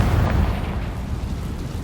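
Fiery Confringo blast spell going off in the Hogwarts Legacy video game, a dense, rumbling explosion burst that holds loud and low for nearly two seconds before easing slightly, with no talk over it.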